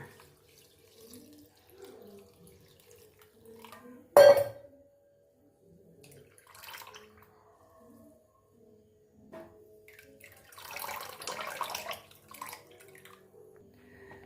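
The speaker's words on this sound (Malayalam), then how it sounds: "ഈ അവസാനം കുറച്ച് വെള്ളം അതിൻ്റെ മുകളിൽ കൂടി ഇങ്ങനെ നമുക്കൊന്ന് ഒഴിക്കാം" Water poured over a washed ingredient sitting in a bowl: a short, loud splash near the start, then a longer, softer stream of running water later, with quiet handling sounds in between and no talking.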